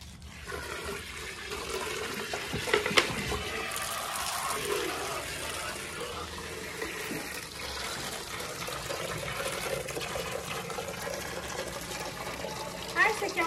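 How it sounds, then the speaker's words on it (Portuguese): Water is poured out for a chicken on a farm in a steady, rushing gush that runs on throughout at a moderate level. "vou botar um pouquinho de água pra ela."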